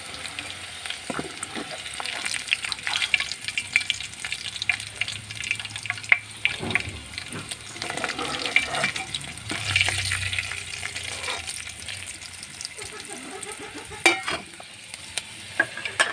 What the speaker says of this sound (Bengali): লাল করে ভেজে নিব। পেঁয়াজটা তুলে নিব এখান থেকে।